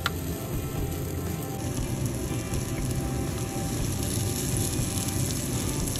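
Onions sautéing with butter in a pan while being caramelized for hamburg steak, giving a steady, dense sizzle and crackle that holds without a break throughout, close and fairly quiet.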